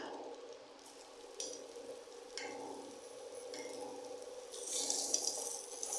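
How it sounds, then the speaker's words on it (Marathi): Finely chopped garlic sizzling in hot butter while prawn karanji filling is prepared: a faint, steady hiss with soft stirring and light utensil clinks. "तर हे आपलं बटर चांगलं तापलेलं आहे त्याच्यात आपण हा लसूण घालून घेऊया बारीक चिरलेला"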